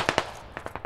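Video game gunfire: two sharp shots followed by a quick rhythmic burst of four or five automatic rounds, loud and close, with no talking.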